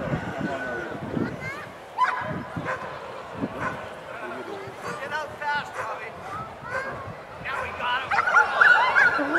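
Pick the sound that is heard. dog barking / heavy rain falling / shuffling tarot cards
dog barking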